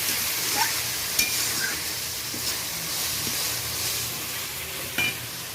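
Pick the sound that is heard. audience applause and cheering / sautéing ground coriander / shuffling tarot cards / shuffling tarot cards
sautéing ground coriander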